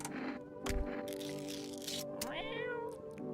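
A cat meows in the video game No, I'm Not Human, giving a clear, drawn-out meow that rises and bends over a soft ambient game background.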